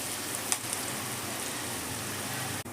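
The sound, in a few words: corn frying in a pan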